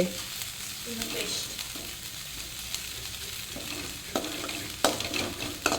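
Onions frying in a pan for homemade masala puri, a soft continuous sizzle broken by occasional spoon clinks and stirring scrapes, with faint background sounds.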